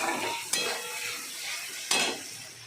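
Onion fried brown in a pan with ginger-garlic paste added, giving a steady soft sizzle with stirring scrapes and two sharp utensil knocks, close and alone.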